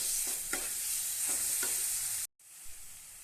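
A spoon stirs sugar through a ripe banana mixture in a pan, a steady sizzling hiss under a few soft scraping strokes. The sound cuts out briefly and then resumes more quietly.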